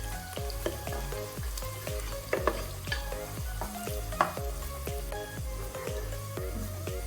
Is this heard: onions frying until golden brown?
yes